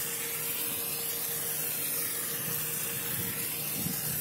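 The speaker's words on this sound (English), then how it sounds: "spray some brake clean on the surfaces of the rotor" A quiet, steady hiss of brake cleaner aerosol sprayed onto a brake rotor of a Ford Crown Victoria, running for several seconds, faint and continuous with a low background rumble.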